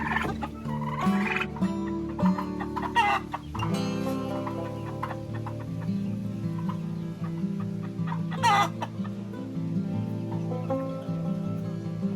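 Turkeys and roosters clucking and gobbling in a busy yard, with overlapping calls and a few sharper cries standing out, close and continuous.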